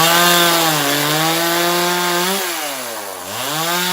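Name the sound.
chainsaw cutting through wood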